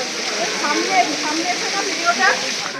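Water gushing continuously from the 108 spouts at Muktinath temple while a vessel is filled, a steady near hiss and splash with faint voices in the background.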